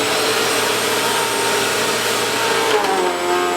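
A Bissell vacuum cleaner running on carpet gives a loud, steady motor whine with a bright airy roar, holding constant throughout, with a slight shift in pitch near the end.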